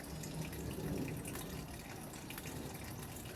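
Freshly speared fish being washed under running water, a steady splashing gush from a tap into a sink that holds at a soft, even level throughout.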